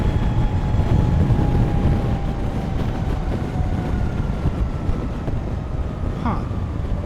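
Harley-Davidson LiveWire electric motorcycle accelerating on the road: a thin, steady electric whine sits under loud, constant wind rush, with no gear changes.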